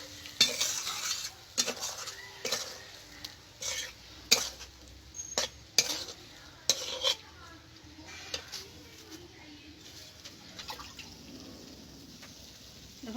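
A cashew and milk mixture is stirred into a pointed gourd curry in a pan, giving repeated clacks and scrapes of a spoon against the pan over a faint sizzle, with the stirring bursts slowing toward the end.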